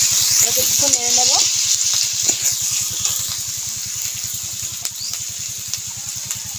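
Ginger paste, cumin paste and spices fry and sizzle in a pan, stirred with a steady scraping rhythm; a brief voice and faint clinks rise over the continuous frying hiss.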